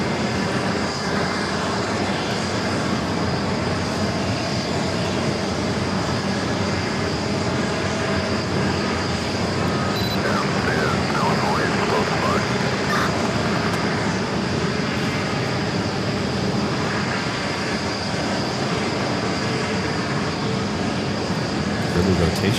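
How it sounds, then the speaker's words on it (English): A Delta Boeing 757 jet takes off from runway 4 Left at JFK, its engines giving a broad, continuous roar that holds steady at a loud level for the whole stretch. "we got that Delta 757 up next for takeoff on 4 left"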